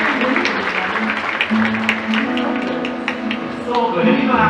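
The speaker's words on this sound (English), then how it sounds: "How about another round of applause for these guys?" An audience claps through a Hawaiian luau show at Aulani, a dense, continuous patter of applause at moderate distance, with a voice speaking over it.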